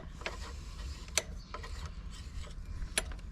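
A 15 mm socket wrench ratchets in short clicking bursts on the neutral sensor of an AM6 engine on a Beta Track 50 motorcycle, a few sharper clicks standing out over a low background rumble.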